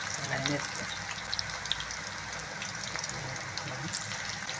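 Spinach and onion pakodi batter dropped into hot oil, giving a steady, broadband sizzle and bubbling with a few crackles, while a voice talks over it.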